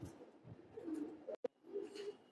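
Silver pigeons coo softly in a cold backyard loft, low rolling calls repeating under faint ambient noise, broken by one sharp click near the middle.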